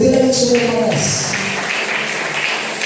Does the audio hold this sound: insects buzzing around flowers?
no